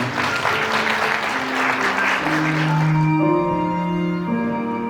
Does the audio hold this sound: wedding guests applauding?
yes